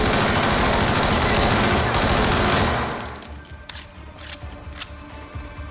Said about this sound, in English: I just start shooting like crazy up here